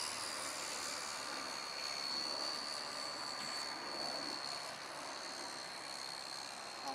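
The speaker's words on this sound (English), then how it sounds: "I'm just on about the 3rd throttle at the moment, and that's flying beautifully" Radio-controlled model Cessna airplane flying at partial throttle, a steady thin whining buzz of its small motor, faint and distant throughout.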